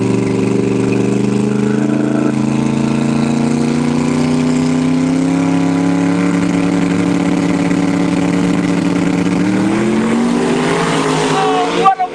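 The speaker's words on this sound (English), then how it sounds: "two wheel standing leaving the Lynn machine" A drag racing car at Empire Dragway, reportedly a Nash-bodied machine, launches with a two-wheel stand. Its engine drones loud and steady throughout, then swells and rises near the end, with an announcer talking over it.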